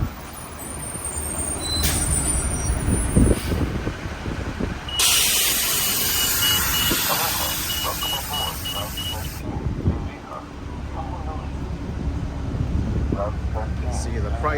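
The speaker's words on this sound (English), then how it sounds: "Here comes the number 13 bus, which I don't want to take." A city bus in Honolulu pulls up close by with a loud engine rumble and a long hissing burst of air brakes in the middle, while a person talks over it.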